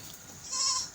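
Goats bleat during a CCP vaccination, one clear wavering bleat rising over a quiet farmyard background in the second half, close by and with no talking.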